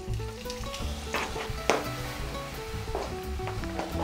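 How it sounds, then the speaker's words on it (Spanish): Xoconostle pieces frying in a pan of hot oil, a steady loud sizzle with scattered utensil clinks and scrapes against the pan, no talk. "vamos a tener un sartén con aceite y vamos a ir poniendo el joconosle a freír"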